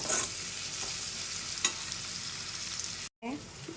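Ingredients stir-fried in a pan for a quick potato rice lunch-box dish, giving a steady close sizzle with soft scraping stirs and a brief gap near the end.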